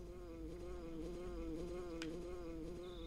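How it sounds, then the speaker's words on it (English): Steady, close buzzing of a flying bee from the video game Earthbound, a continuous droning hum with a brief tick partway through and no voices. "Hear a buzzing that sounds like a bee flying around?"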